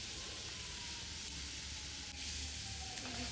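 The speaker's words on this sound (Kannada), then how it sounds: "ಗೋಡಂಬಿ ಮತ್ತು ಬಾದಾಮಿ ಅದನ್ನು ಫ್ರೈ ಮಾಡ್ಕೋಬೇಕು" Cashews and almonds fry in hot oil with a faint, steady sizzling hiss, low and unbroken, without any voices.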